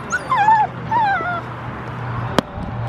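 A dog whimpers and yips in high, wavering whines, two or three drawn-out cries close by, followed by a brief sharp knock.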